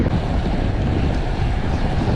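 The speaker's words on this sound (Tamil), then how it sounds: "ஐயோ, காற்று அடிக்குது." Strong wind buffets the microphone during a long bicycle ride of roughly 200 km, a loud continuous roaring rush with no breaks and no speech.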